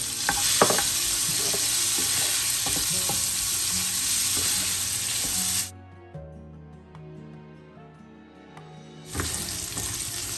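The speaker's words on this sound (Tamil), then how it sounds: "நான் இந்த பன்னீரை நெய்யில் தான் வதக்கி எடுக்க போகிறேன்." Paneer cubes frying in a spoonful of ghee in a pan, a steady close sizzle with spoon scrapes and stirring clinks, which drops away for a few seconds before the loud frying noise returns.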